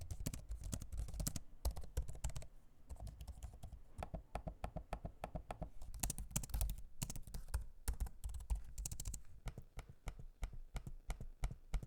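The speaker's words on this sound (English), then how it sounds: "hearing the keyboard and trackpads in use, here's a sample so you can hear for yourself" Rapid clicking of gaming laptop keys with occasional trackpad taps, close and steady throughout, no voices.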